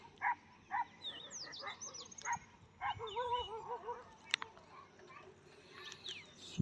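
Dogs barking in a village, several short sharp barks spaced irregularly across the clip, moderately near, with birds and faint background noise around them.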